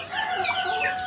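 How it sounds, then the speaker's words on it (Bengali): Chickens cluck steadily and close by, a dense overlapping flock sound with a rooster-like call mixed in, continuous through the short moment. "এই যে মাশাআল্লাহ মুরগির কোয়ালিটি দেখেন"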